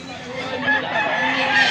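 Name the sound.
white rooster crowing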